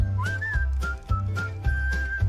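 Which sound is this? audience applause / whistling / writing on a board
whistling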